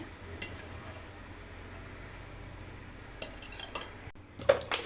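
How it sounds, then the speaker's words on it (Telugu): A pan set on a kitchen stove with cooking oil added: soft metallic clinks and scrapes of cookware over a low background hum, building to a few louder clatters near the end, with no talking. "ఇప్పుడు మనం ప్యాన్ పెట్టుకొని అందులో కొద్దిగా ఆయిల్ వేసుకోవాలి"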